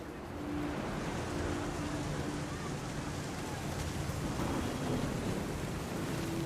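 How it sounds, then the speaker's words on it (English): Storm ambience from the video game What Remains of Edith Finch, with a steady wash of rain and low rumbling thunder holding at an even level throughout, and faint tonal game sounds beneath. "The thunder sounded much too close and full of angry power."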